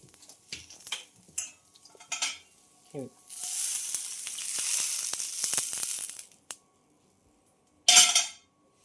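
Roasted cluster beans for a spicy gavar thecha being scraped out of a hot pan, scattered clinks and scrapes followed by a few seconds of loud sizzling, then a brief final burst after a pause.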